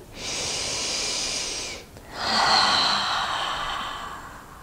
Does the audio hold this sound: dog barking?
no